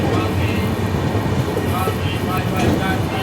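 Capital Express train rolling slowly on its Kamakhya to Siliguri run, a loud, steady broadband rumble and rattle from inside the carriage, constant throughout with faint squeaks above.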